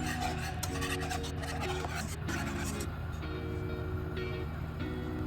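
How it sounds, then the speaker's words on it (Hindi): A spoon stirs milk powder barfi mixture in a pan over a medium-low flame without pause, making a continuous rasping scrape over a steady low hum. "इसको हम लगातार चम्मच चलाते रहेंगे"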